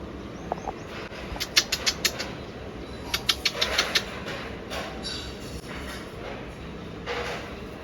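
Pet birds in a home, a quick series of sharp flapping or chirping bursts in two clusters, with faint background noise in between and no talk.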